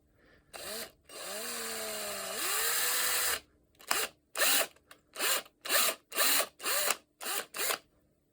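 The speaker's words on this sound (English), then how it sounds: "Don't really want to drill too much against the bearings." A power drill bores into a hard steel knuckle part for a DIY robot hand, first a few longer whirring runs with pitch shifts, then a rapid series of short bursts, close and loud.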